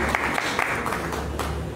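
A church congregation at a prophetic worship service applauds in a dense burst of clapping that carries on throughout the short moment, with faint voices mixed in.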